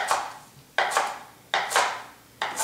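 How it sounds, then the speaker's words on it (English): A knife chops coarsely through fresh cilantro on a cutting board. Four sharp, close strokes fall in an uneven rhythm, with no voices. "All I do is I'm going to coarsely chop this."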